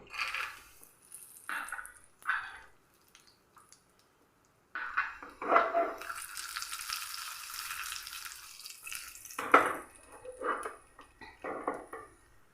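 Ghee with cashew nuts and peanuts fries in a pan with a soft sizzle that swells for a few seconds, broken up by quiet clinks and stirring scrapes, with no voices.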